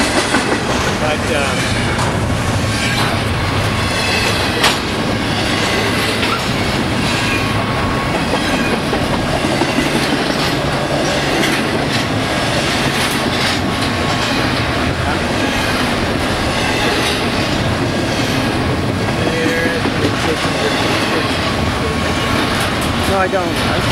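A BNSF freight train rolls past at Victorville, its engines and wagons making a loud, steady rumble with clickety-clack wheel beats and occasional squeal throughout, while people talk nearby.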